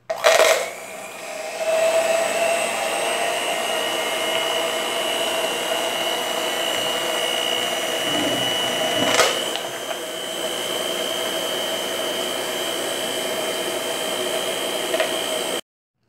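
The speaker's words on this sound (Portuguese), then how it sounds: "E vou bater agora com a batedeira, como sempre, né? Pra dar uma firmeza" An electric hand mixer whirs steadily while it beats homemade coconut bar soap, a continuous close motor hum that runs from start to finish with a slight wobble midway.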